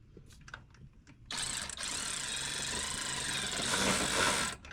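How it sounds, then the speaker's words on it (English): A cordless ratchet wrench whirs steadily for several seconds while starting a nut during a Firestone airbag install on a Toyota Tacoma, loud and close, following a few faint clicks and handling noises. "I'm just going to get the cordless ratchet wrench on there"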